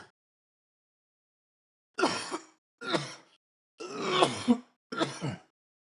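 Four rough, broadband coughing bursts close to the mic, spaced about a second apart after two seconds of silence, each with a raspy, throaty edge.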